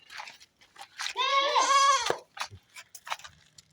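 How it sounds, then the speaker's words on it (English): Goats on a farm near a soursop tree let out one drawn-out, wavering bleat lasting about a second, close and fairly loud, with people talking before and after it. "You see what the goats are doing."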